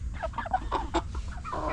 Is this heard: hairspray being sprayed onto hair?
no